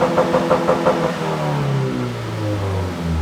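A Subaru WRX engine set up with a Cobb Accessport launch control holds a high rev, with a few quick throttle blips first and then a steady, loud limiter-style drone that slowly drops in pitch, close by with no talking.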